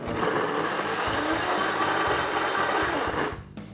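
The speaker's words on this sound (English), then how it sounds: "Blend it one more time." A blender whirs loudly and steadily through keto chocolate muffin batter for about three seconds, then cuts off abruptly, leaving a brief quiet tail.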